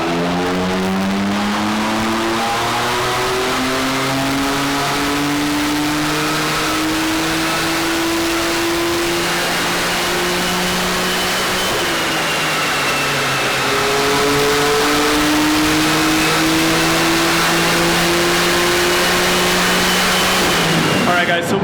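A 2018 BMW M3 Competition or M4, running on 91-octane fuel, revs hard through a fourth-gear pull on a dyno. The loud engine note climbs steadily in pitch, dips briefly midway, then keeps rising for about twenty seconds.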